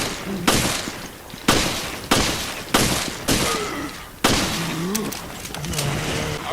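Handgun shots from the PC-356 ring out against an ooze in Resident Evil: Revelations, six sharp loud reports spaced about a second apart, with creature squeals and game effects between them.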